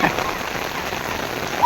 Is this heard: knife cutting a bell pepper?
no